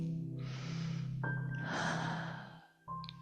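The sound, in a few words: deep breathing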